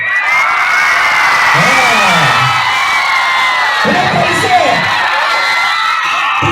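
A dense crowd cheers, whoops and shouts continuously at a cockfight in Abhayapuri, with louder swells of yelling rising over the steady roar of voices close by.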